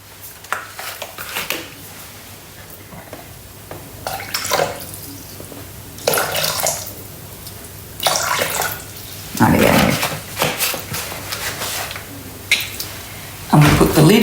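Water poured into a Thermomix bowl while making honeycomb, heard as several separate bursts of splashing and trickling, fairly close, with short quiet gaps between pours.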